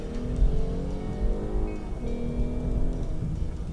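A 2014 Lexus IS350 F-Sport V6 engine accelerates in normal mode, a steady droning growl rising in pitch with a shift partway through, heard from inside the car without talk.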